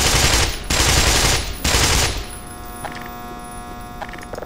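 Bursts of automatic gunfire from the Black Mesa shooter game, dense rapid crackling in two or three loud volleys over the first two seconds, then a quieter tail with faint electronic tones.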